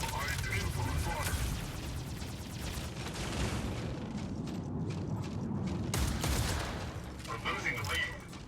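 Gunfire in a video game rattles on continuously as dense bursts of shots and booming blasts, loud and steady throughout, with voices speaking over the fighting.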